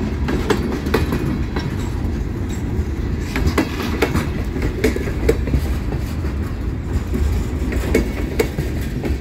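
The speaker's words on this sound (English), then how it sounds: "this should be CSX's M426 headed up to Rigby Yard in Portland, Maine" CSX freight train M426 rolling past at close range, a continuous heavy rumble punctuated by regular clickety-clack wheel beats over the rail joints, with occasional faint squeals.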